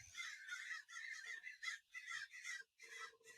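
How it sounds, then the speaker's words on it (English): Several crows caw in repeated harsh bursts outdoors, loud and close, calling one after another with brief gaps and no talk over them. "I'm being overran by crows right now."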